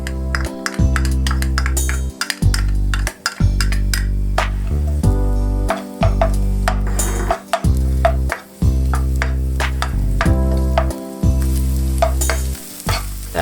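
Onion and garlic sautéing in oil in a pot, with a steady sizzle under a continuous low hum, punctuated by repeated sharp metallic clinks and taps of stirring throughout.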